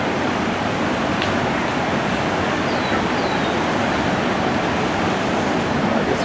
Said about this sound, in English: When the waves come, they're kind of thick